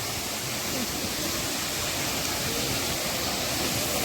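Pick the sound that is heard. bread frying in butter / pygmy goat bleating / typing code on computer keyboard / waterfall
waterfall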